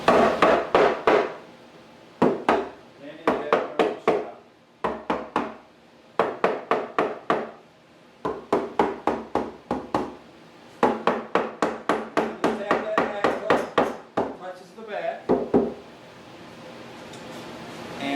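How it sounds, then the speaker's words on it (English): A rawhide mallet knocks repeatedly on a wooden kitchen cabinet face frame, loud close strikes in rapid bursts of several blows separated by short pauses, alone without talk. "alright, I got a leather mallet here"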